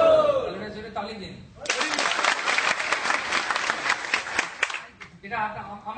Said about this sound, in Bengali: জোরে তালি দিন।